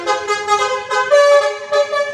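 Horn of a Gunung Harta bus sounding a musical, multi-tone melody, loud and close, with rising and falling notes repeated over about two seconds and no talk.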